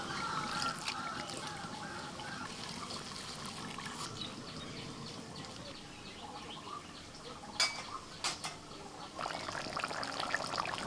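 Gram flour batter mixed with turmeric, chilli powder, ginger-garlic-green chilli paste and cumin is whisked by hand into a continuous wet slosh. A few sharper taps come near the end, and no one speaks.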